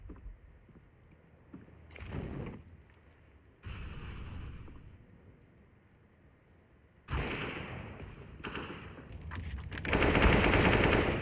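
Automatic gunfire rings out in a Counter-Strike esports match on the Vertigo map: several rapid bursts separated by quieter gaps, with the longest and loudest volleys near the end.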